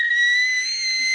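A person whistles a single clear, sustained tone that holds steady and loud for about a second, with no talking over it.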